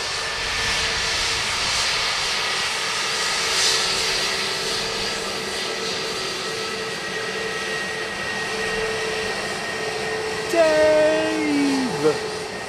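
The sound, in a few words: jet airliner engines at Dublin Airport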